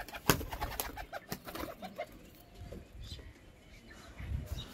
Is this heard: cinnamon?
no